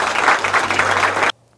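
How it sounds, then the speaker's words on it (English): Applause for faculty and students during live school announcements, a dense burst of clapping from a crowd that holds steady for over a second, then cuts off abruptly to near silence. "I'd like to give them a round of applause"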